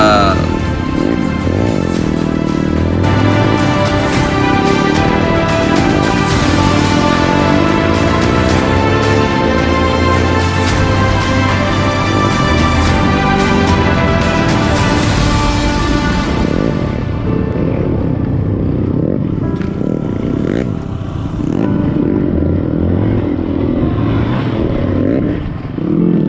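A bored-up trail motorcycle races at full speed on a trail, its engine roaring loud and close with sustained revving and clattering; the roar eases and drops toward the end.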